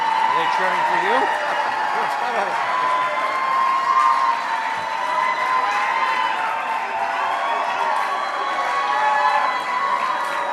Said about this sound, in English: Are they cheering for you?